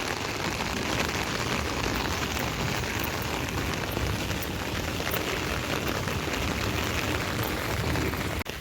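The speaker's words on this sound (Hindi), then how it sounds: "गाइस इतनी तेज़ बारिश हो रही है" Dense, heavy rain pouring steadily, a loud continuous hiss of drops hitting surfaces with no letup and no voices.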